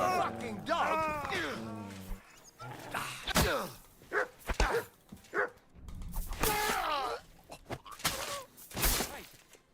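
Dog barks in Kingdom Come: Deliverance II, a few loud yelps and growls amid a brawl, with shouting voices, thumps and scuffling around them.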